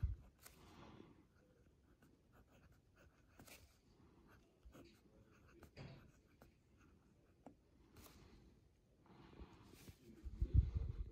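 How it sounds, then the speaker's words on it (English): A fountain pen scratches across paper in faint, uneven strokes close up, with soft breathing and rustling around it and a louder handling bump near the end. "I'm going to write"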